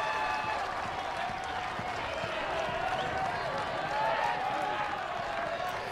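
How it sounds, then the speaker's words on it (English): A college baseball stadium crowd during Tennessee versus Georgia, with a steady broad roar of cheering and scattered applause that holds for several seconds and swells slightly near the end, with a commentator's voice faintly mixed in. "You can start to feel that crowd"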